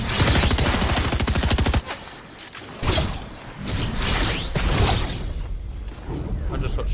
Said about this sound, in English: I just got shot from up here somewhere.